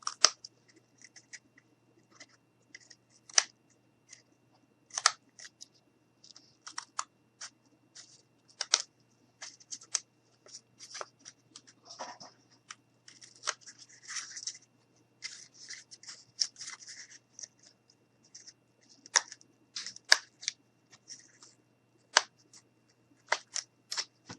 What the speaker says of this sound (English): Gonna go ahead and cut a little more of this out